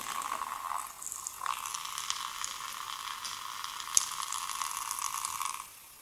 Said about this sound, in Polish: Wodę leje. Ale do butów?